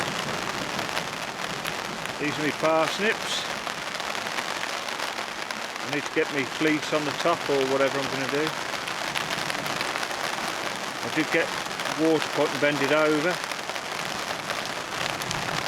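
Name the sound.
rain falling on a garden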